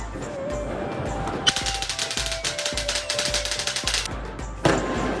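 Firecrackers of the kind that burst after being thrown go off at Diwali in Aligarh, a loud, rapid string of crackling pops lasting a few seconds, with a sharp bang before and another after.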